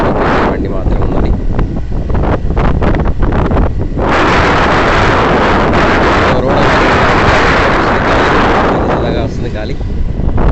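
Heavy wind buffets the microphone on a motorbike ride along empty Karimnagar roads at night, a loud continuous roar with gusty surges and brief dips, swamping everything else.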